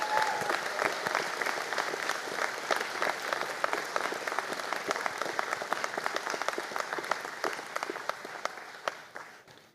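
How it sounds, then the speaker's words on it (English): An audience at an engineering graduation conferring ceremony claps steadily for standing graduates, a moderate wash of many hands with crisp individual claps that thins and fades toward the end. "please stand for a round of applause"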